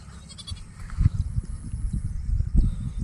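A male goat, recently ill and still a little weak, bleats and grunts in short repeated calls close by, with bursts of rustling and low thumps in a pen.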